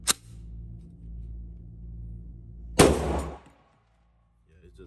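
A Glock 21 .45 pistol fitted in an MCK carbine kit fires a single sharp, loud shot at close range, with a short ringing tail, over a steady low background hum followed by near silence.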